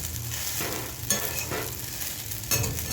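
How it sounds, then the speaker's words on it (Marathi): Sabudana khichdi is stir-fried in a pan with a soft, steady sizzle close by, broken by a few distinct scrapes of a spatula stirring the mixture, with no voices. "अशा प्रकारे 7 ते 8 मिनिट साबुदाणा खिचडी परतून घ्यायची असते"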